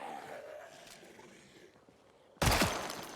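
Gunfire from a video game arrives as a sudden loud burst after a quieter stretch and lasts to the end, preceded by dim background game sound.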